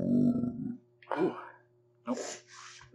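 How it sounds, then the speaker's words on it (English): A woman burps after eating very spicy food, a short guttural belch heard close up in a quiet room, with other brief breathy vocal sounds around it. "There was a burp."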